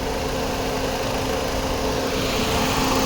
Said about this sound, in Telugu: ఇంజన్ చూసుకోండి సౌండ్.